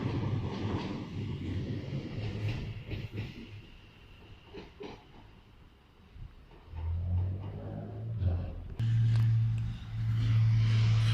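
A train passes at speed on the West Coast Main Line at Bushey, a broad rushing rumble that swells, eases and then builds into loud, steady droning wheel and motor tones up close, with no voices.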